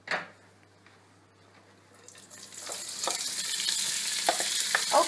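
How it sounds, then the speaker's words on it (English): Onions and scallions hit hot oil for a homemade spanakopita filling: near silence at first, then a loud spreading sizzle that swells and holds with occasional stirring clinks. "my oil is nice and hot, and the first thing we're going to saute is the onions, scallions and the onion"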